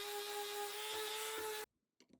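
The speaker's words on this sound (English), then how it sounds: "A little sanding and the excess burn marks were cleaned away." A small power tool whines at a steady high pitch while sanding burn marks off wood, then cuts off abruptly, leaving a few faint scraping sounds.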